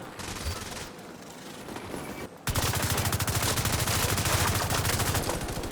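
Continuous rapid automatic gunfire from a shooter game, The Division 2, with a dense burst pattern that gets louder and more sustained partway through, close and steady.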